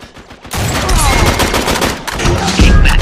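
Loud gunfire from a sniper rifle in Uncharted 3 multiplayer on the Airstrip map, a dense, sustained roar of shots and noise that starts abruptly and stays heavy to the end.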